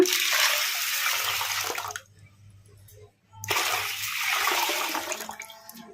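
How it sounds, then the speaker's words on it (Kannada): Water poured from a tap or vessel onto washed black-eyed pea lentils in a pot, a steady loud splashing rush that stops briefly midway and then resumes. "ಈಗ ಇದಕ್ಕೆ ನೀರು ಹಾಕ್ಕೊಂಬಿಡೋಣ"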